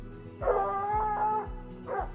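A hunting dog wearing a tracking collar barks and yips outdoors: several sharp, fairly close barks blending into whiny howling tones, repeating over a steady background with no talk.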